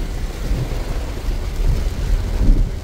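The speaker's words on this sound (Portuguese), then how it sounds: "muita chuva aqui no Sertão Central" Heavy rain pours over the Sertão Central in Brazil, a dense continuous roar with deep low rumbles that suggest distant thunder, steady and loud with no voices.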